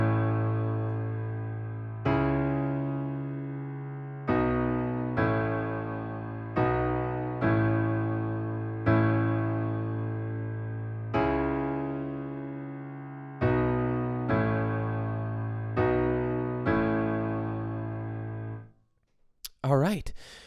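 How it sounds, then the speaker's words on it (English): A simple solo piano accompaniment for the verse of a song plays steady, repeated chords in a slow, even rhythm, each one struck and left to decay, before ending in a brief burst of noise. "this is a fairly simple piano accompaniment"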